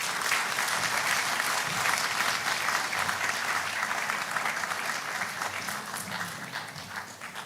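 Steady, dense applause from an audience after a speech at a national launch event in Ghana, continuing evenly throughout at moderate distance.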